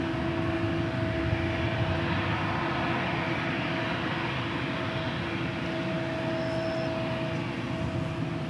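Boeing 787 Dreamliner jet at DFW Airport, a sustained broad engine roar with a steady tonal hum, continuous and fairly loud with no voices.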